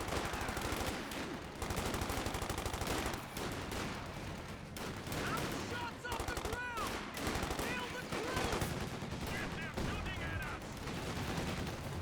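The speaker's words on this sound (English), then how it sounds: "I heard an explosion over here." Continuous battlefield noise from the strategy game Company of Heroes 2, with a mortar explosion among dense, overlapping gunfire and machine-gun bursts that stay busy and moderately loud throughout.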